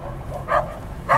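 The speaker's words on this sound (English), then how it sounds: "Oh, the little dog is coming to help them" A small dog gives two short, sharp barks a moment apart, fairly close, over a low rumbling background outdoors in Springbok, Namaqualand.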